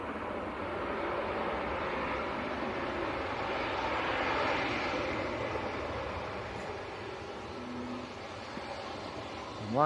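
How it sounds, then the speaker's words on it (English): Embraer jet from Amsterdam landing in gusty crosswind at Leeds Bradford Airport, its engine roar steady and broadband throughout, moderately loud at a distance with no voices. "Embraer from Amsterdam. Very nose-up landing."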